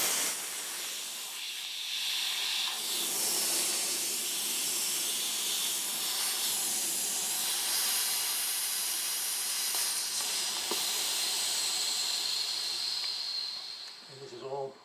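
A Porter Cable air compressor's tank bleeder valve blasts out air and condensation in a loud, steady broadband hiss that holds for about fourteen seconds, then cuts off sharply with a brief rattle at the end.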